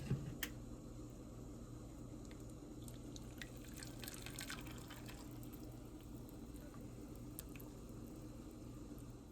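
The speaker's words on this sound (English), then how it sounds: "I'm going to go ahead and add my oil into this" Oil poured into a bowl while making comfrey salve gives a soft, faint, steady liquid trickle with a few small drips, with no talking.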